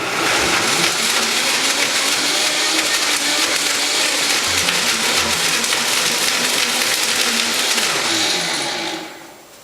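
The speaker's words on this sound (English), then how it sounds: "So I'm going to blend this up." A blender whirs loud and steady for nearly ten seconds, grinding corn puree with torn dried mango, dates, cumin and celery salt, then spins down and cuts off at the end, with no voices.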